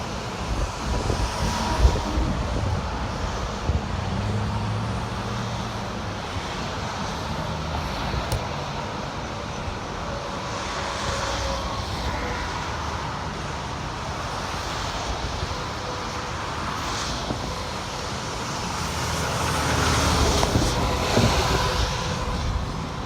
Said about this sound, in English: You'll have to excuse the road noise.